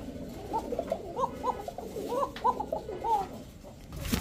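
Pigeons at a pigeon farm, including a pair of White King pigeons, give repeated throaty coos that overlap in a busy cluster, close and moderately loud, with a brief rustle near the end.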